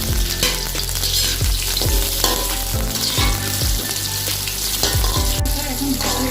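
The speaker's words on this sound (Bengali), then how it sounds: "এটা একটু শক্ত, এর জন্য এটাকে আমরা 2 মিনিট আগে ভেজে নিচ্ছি।" Hard vegetables for a vegetable khichuri fry in a pan, giving a loud, dense sizzle broken by a regular series of sharp metal spatula clanks against the pan, with nobody speaking.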